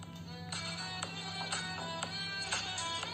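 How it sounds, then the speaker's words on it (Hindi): A Hindi love song ringtone plays from a phone ringtone app: a steady, bright melody of repeating plucked notes with a regular beat, moderately loud and heard alone without talking. "तो चलिए यहाँ पर मैं इस रिंगटोन को प्ले कर लेता हूँ"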